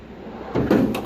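A junk drawer in a mechanic's tool box slides open with a short rolling metal rattle, loud and close, followed by a brief clatter of loose contents settling.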